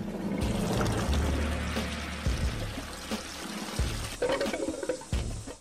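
A toilet flush sound effect: loud rushing, swirling water that surges and then drains away over several seconds before cutting off.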